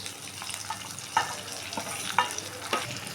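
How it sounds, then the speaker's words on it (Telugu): Brinjal curry with onion paste is stirred in a pan, giving a soft, steady sizzle with a few sharper scrapes and clinks of the spoon against the pan, fairly quiet and with no talking. "ఇప్పుడు ఇందాక చేసుకున్న ఉల్లిపాయ పేస్ట్ ఉంది కదా ఇప్పుడు ఇది కూడా మొత్తం కూరలో వేసేసుకున్నాం"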